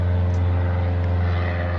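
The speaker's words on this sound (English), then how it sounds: "Oh, here goes a plane." A propeller plane flies overhead outdoors in February, its droning engine hum steady and fairly loud, unbroken and with no talk.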